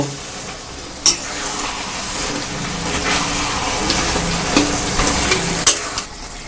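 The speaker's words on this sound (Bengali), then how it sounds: "এবার আমি এটাকে ভালো করে নাড়ব" A spatula stirs cabbage and fried fish heads in a hot pan, with a continuous close sizzle broken by scraping strokes and a few sharp knocks against the pan.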